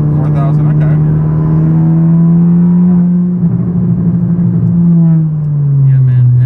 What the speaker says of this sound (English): Just rolling into the boost sounds so good.